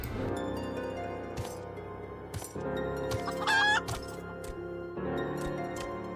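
A chicken in Final Fantasy XIV clucks in short bursts over background music, with one higher squawk or crow in the middle, fairly close and clear.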